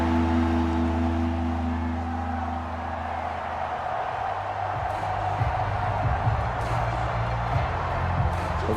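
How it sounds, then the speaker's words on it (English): Stadium crowd in a Madden NFL video game, Vikings against Cardinals, a continuous low roar under a droning hum, steady and fairly loud throughout without clear peaks. "this crowd trying to force a false start here"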